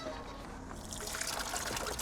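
Water trickles and splashes continuously from a small stream near a waterfall on a mountain trail, a close, steady bubbling wash with no clear talk.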